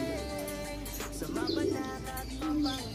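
Racing pigeons cooing after arriving at their loft during a pigeon race, low soft coos over a constant background hum, fairly close.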